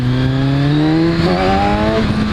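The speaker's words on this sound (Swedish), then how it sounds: "Jag kan demonstrera power wheelie. Det är lite farligare, men jag kan visa. Då bara gasar man upp den." A 2015 Kawasaki Z1000 motorcycle engine revs hard for a power wheelie, pitch climbing steadily then wavering as the throttle is held, loud and close with no talking.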